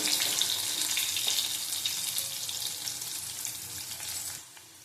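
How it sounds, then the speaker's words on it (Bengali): Potatoes fry in a pan for a raw banana and potato curry, a steady close sizzle with faint watery crackle that drops off sharply near the end. "আলুগুলি ভালো করে ভেজে নেব"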